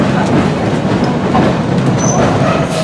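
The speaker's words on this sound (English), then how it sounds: "So we're on this little tram." A tram in Portugal rumbles along its rails with a steady, close-up roar, light clatter and a faint wheel squeal near the end.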